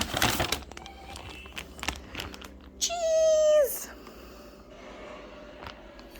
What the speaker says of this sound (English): which my cat just tried to grab and knock out of my hand